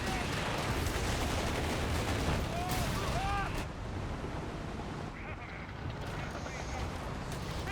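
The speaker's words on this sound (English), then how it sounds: "Some base howitzer fires there dropped on the cache" Howitzer artillery fire in Company of Heroes 3, a 2v2 online match, booms and rumbles among dense battlefield gunfire, a continuous loud barrage with sharp reports layered over the din.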